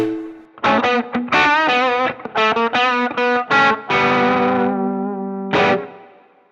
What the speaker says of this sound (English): a bit of reverb from the Flint.